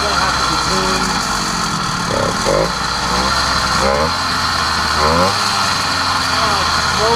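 A 100cc iron-sleeve motorized bicycle engine buzzes continuously while being ridden, a raspy mid-pitched drone with small surges and dips, steady and fairly close with wind noise throughout.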